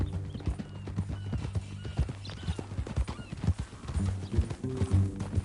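Horse hooves clip-clopping at a steady walk in Red Dead Redemption 2, close and rhythmic, with a horse whinnying and snorting over the hoofbeats.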